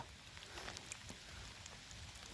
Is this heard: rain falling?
yes